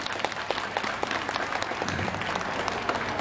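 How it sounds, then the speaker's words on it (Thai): A short burst of lively applause from a concert crowd at Fashion Island in Bangkok, with dense, crackling clapping throughout. "ปรบมือให้กับตัวเองหน่อยได้ไหมครับผม"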